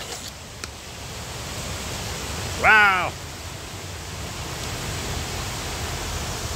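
A raging creek on the Erie Coast roars in a dense, unbroken rush, loud and steady, while a voice briefly exclaims once partway through.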